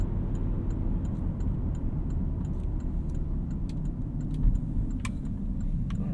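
A 2014 Porsche Cayenne GTS drives along with its exhaust baffles open, a steady loud low engine drone heard from inside the cabin, with faint ticking and rattling above it.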